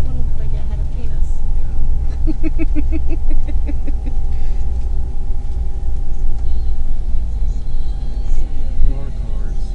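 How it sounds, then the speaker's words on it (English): Cars passing on a busy road in Ankara, a continuous traffic rumble with engines swelling and fading, one passing vehicle clearer in the middle; moderately loud, heard from close by. "More cars. Oh yes, there's always more cars."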